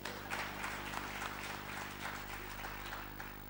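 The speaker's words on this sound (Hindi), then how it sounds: "तो इनके लिए जोरदार तालियां।" An audience applauds at a Jaipur Literature Festival session, a dense, steady clapping that carries throughout, moderately distant in a large hall.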